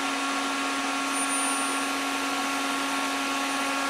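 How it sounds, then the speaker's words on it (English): A Yaskawa spindle drive, repaired after shorted transistor power modules, runs with light bulbs wired to its outputs as a load, giving off a steady, continuous electrical hum and whine with no pauses or voices. "Let's fire this thing up. See what it does. Enable the drive to run."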